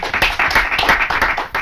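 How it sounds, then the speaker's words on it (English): Audience applause at the end of a competition stage, a short burst of dense clapping close and loud throughout. "A round of applause for them, please."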